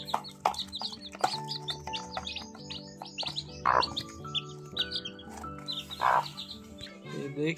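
Aseel chicks cheep rapidly while hens cluck and murmur nearby as they feed, a busy, close chorus of bird calls with overlapping chirps throughout.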